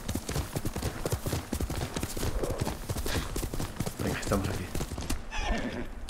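Horse hooves clip-clop steadily in a quick trotting rhythm in the video game Ghost of Tsushima, with a loud whinny near the end and a voice speaking briefly over it.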